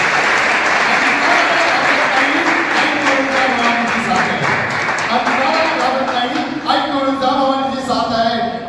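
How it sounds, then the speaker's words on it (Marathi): Loud, sustained applause from a large crowd at a Konkan reels-stars meetup during the arrival ceremony of Ratnagiri's Raja Ganpati idol in Ratnagiri, with voices and chatter mixed in throughout. "एकदम जोरदार टाळी"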